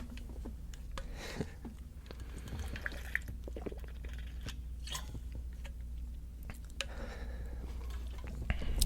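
Close, quiet swallowing and wet mouth sounds of a person sipping water, small gulps and lip smacks in an irregular rhythm with no talking.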